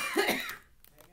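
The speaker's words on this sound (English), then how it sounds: "we're coughing just pretty much from popping it in" Coughing from the vapors of ghost pepper popcorn while it pops, a couple of close, harsh bursts lasting under a second, followed by quieter breathy sounds.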